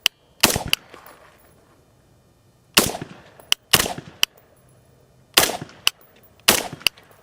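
SIG Spear rifle fitted with a HUXWRX FLOW 556K suppressor fires five spaced single shots, each a sharp close crack followed by a brief reverberant tail, with small metallic clicks between.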